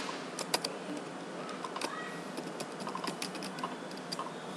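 Quiet, rapid keystrokes on a computer keyboard, light irregular clicks with occasional sharper taps, close and alone without talk.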